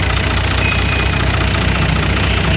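A Kubota tractor's three-cylinder diesel engine runs steadily at idle, with a constant close mechanical drone and an even low knocking pulse throughout.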